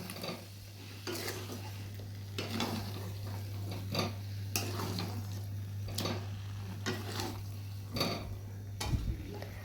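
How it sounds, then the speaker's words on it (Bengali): Potatoes and eggs with spices being stirred in a pan for egg biryani: repeated scraping strokes of a utensil against the pan, steady and close, with a low hum running underneath. "তারপর খুবই ভালোভাবে আলু ডিম মশলার সাথে মিশিয়ে নেব।"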